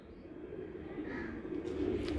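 A Lal Pari breeder pigeon coos softly at close range, with low murmuring coos over a quiet background and a few faint higher chirps mixed in.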